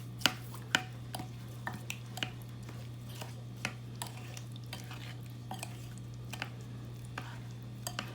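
Turkey seasoning ingredients are stirred in a bowl, giving sharp scattered clinks and scrapes against the bowl at an irregular pace, close by, over a steady low hum.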